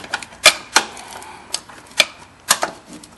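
A ratcheting wrench backs out a bolt, giving a sparse series of sharp metallic clicks at uneven intervals, close and fairly crisp with no talking.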